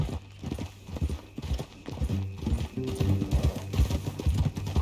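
Horse hooves clip-clop steadily in Red Dead Redemption 2, a close, rhythmic run of hoofbeats on the ground with a brief whinny-like tone in places.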